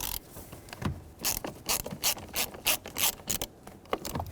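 A ratchet unscrewing the blower motor mounting screw under the dash of a 1995-2004 Toyota Tacoma, clicking close and loud in quick bursts of pawl clicks with short pauses between strokes, and no voices.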